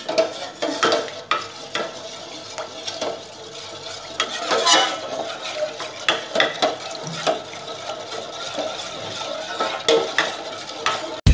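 Coconut agar jelly mixture bubbles in a pot as a ladle stirs it, giving repeated scraping and clinking strokes over a soft continuous simmer, close and fairly busy throughout.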